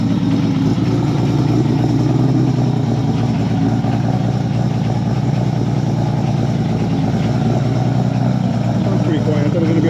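Deep, fairly quiet steady rumble from a Toyota Supra with a PHR titanium exhaust idling cold, heard close up, with someone talking over it.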